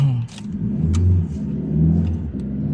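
A car pulls away on the Bocimi and Jagorawi toll road, its engine revving and rising as it gathers speed, loud and close from inside, with faint brief sounds over the motor.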